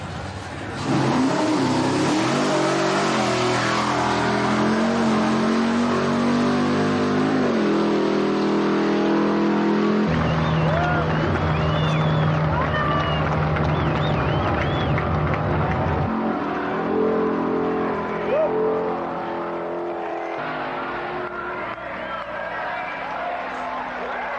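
The Hurst Hemi Underglass wheelstander car's engine revs loudly and repeatedly, rising and dropping in pitch over a crowd at an exhibition, with a voice occasionally audible.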